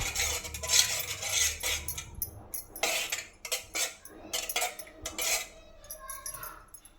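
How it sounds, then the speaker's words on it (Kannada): A metal spoon clinks and scrapes against a steel vessel while turmeric is stirred into water, a quick irregular series of bright taps and rattles, close and fairly quiet, without talking. "ಸ್ವಲ್ಪ ಅರಿಶಿನ ಚೆನ್ನಾಗಿ ಮಿಕ್ಸ್ ಮಾಡ್ಕೋಬೇಕಾಗುತ್ತೆ"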